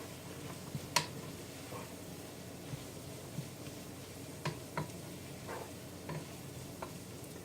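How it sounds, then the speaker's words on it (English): Carrots and onions softening in a pan, a low continuous sizzle with occasional sharp ticks and stirring scrapes, close and steady with no voices. "The carrots and the onions are just getting softened in the pan"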